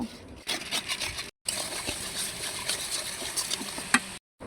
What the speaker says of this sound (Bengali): মশলাটাকে আমি ভালোভাবে কষিয়ে নেব